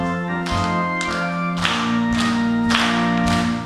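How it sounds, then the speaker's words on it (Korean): Congregation clapping in a steady rhythm along with a sung hymn at an early-morning revival prayer service in a church, the claps sitting under the singing and organ-like accompaniment. "우리 박수 치면서"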